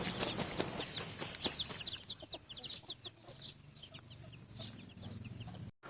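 A hen clucks near her chicks while they forage, with many rapid high chick peeps over low, scattered clucks and some wing flutter, close and fairly steady, fading slightly toward the end.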